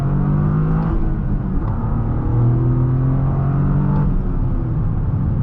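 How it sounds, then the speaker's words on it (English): A Toyota GR Corolla with a 300 hp turbocharged engine is driven hard at high rpm, its exhaust and turbos producing a loud, continuous droning rumble with rising and falling engine tones from inside the car. "You hear the exhaust noise, you hear the turbos."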